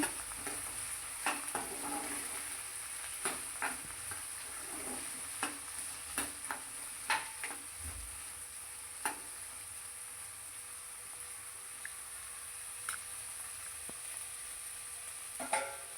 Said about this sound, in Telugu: దొండకాయ ముక్కల్ని ఒక ఫిఫ్టీ పర్సెంట్ ఉడికించుకోవాలి